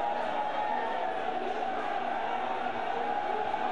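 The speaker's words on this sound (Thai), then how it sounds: "แต่มีเสียงโห่ฮาครับบนเวที" A Muay Thai fight crowd keeps up a steady, dense roar of booing and cheering throughout, a continuous wash of voices without pause.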